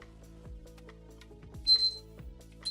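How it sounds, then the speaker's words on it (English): A trading platform's opening range alarm goes off in a quick electronic chime, a short bright ping followed by a fainter one, over a low steady hum. "it's 15-minute opening range alarm"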